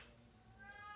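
Faint cat meows in a quiet room, a thin high-pitched call rising out of low background hiss, distant and soft with no one talking.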